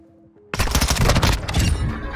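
Rapid gunfire from a Lockman Shroud gun in a video game erupts as a loud, dense burst of overlapping shots lasting under two seconds after a quiet start.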